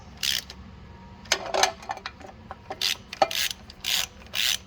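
Ratchet wrench snugging the oil pan bolts on a 2007 Jeep Wrangler 3.8L engine, a string of short bursts of rapid clicking separated by pauses, close and fairly loud with no talk.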